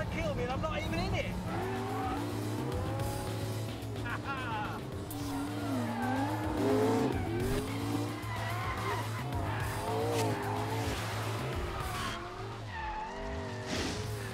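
A Ferrari driven by May skids around a test track, tires squealing in long wavering howls over a steady engine drone, close and loud, with a voice talking over it.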